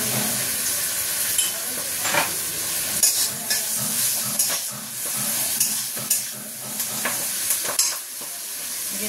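Spinach cooks in a pan with a continuous bright sizzle and hiss, punctuated by frequent short clinks and scrapes of stirring, close and fairly loud throughout.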